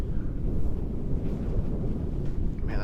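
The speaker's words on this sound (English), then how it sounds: "A little windy, headwind." Steady wind buffeting a microphone outdoors on a disc golf course, a continuous low rumbling roar with no talk.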